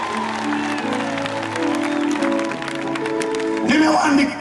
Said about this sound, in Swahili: Mpe Yesu makofi kijana mwenye nguvu.